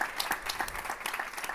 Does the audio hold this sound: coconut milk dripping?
no